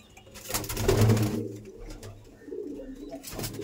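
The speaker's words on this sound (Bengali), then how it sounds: "দেখুন কত ধরনের পায়রা আছে" Tournament racing pigeons in a loft: close, soft throaty cooing that swells and fades over a few seconds, with faint rustling and no talk.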